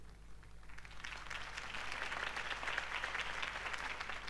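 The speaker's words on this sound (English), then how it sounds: "could have heard that applause" Steady crowd applause in a Batman video game, swelling and holding, a dense wash of many hands clapping at moderate distance.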